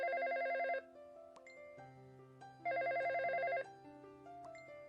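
A telephone rings unanswered in a cartoon home, two long bursts of electronic ringing separated by a pause, loud and close, with musical tones beneath and no talk.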